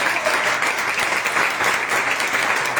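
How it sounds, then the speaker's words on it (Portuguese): A church congregation applauding during a sermon, a steady wash of clapping that stays even for the whole short stretch with no speech over it. "Pode aplaudir o Senhor por essa palavra?"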